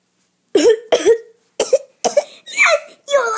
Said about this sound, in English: You coughed.